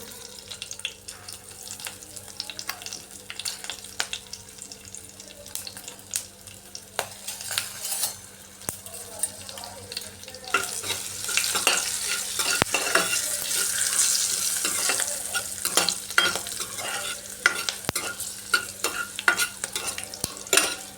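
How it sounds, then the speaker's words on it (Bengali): Asafoetida, curry leaves and green chillies fry in hot oil for rasam, a continuous sizzle with scraping stir strokes that grows louder and busier in the second half, with nobody speaking. "কারি আর শস্যটা একটু ভাজা ভাজা হয়ে যায়"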